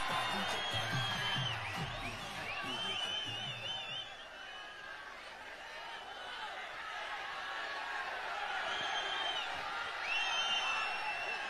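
A live crowd at an event for the actor Dhanush claps, cheers and laughs steadily for the whole stretch, with a thick wash of voices and some whistling. It is loud and continuous throughout.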